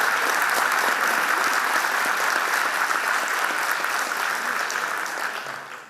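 Audience applause fills a lecture hall at a science-center talk, a dense, steady wash of many hands clapping that holds for several seconds, then begins to thin out near the end.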